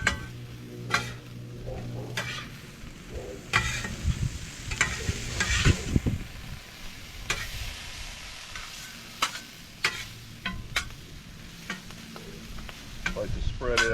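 Pre-cooked rice sizzles on a hot griddle while being stirred and spread with a utensil, giving a soft continuous frying hiss broken by scraping and tapping clicks that stand alone with no talk.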